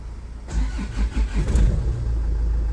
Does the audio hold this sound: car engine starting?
yes